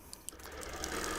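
A sewing machine runs in manual mode for free-motion quilting on a baby quilt, giving a quiet, steady mechanical whir of unregulated stitching that builds slightly over about a second.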